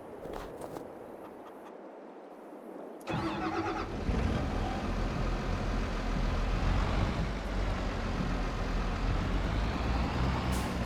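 Tractor engine in Farming Simulator 22, reversing a trailer on a farm; quiet mechanical sounds give way to a sudden louder, steady engine rumble that continues close up, with no one talking.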